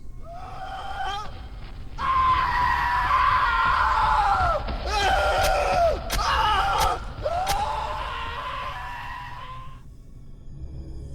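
Shrill, wavering screams rise and fall for several seconds over a low rumbling background, with sharp high cries cutting through near the middle.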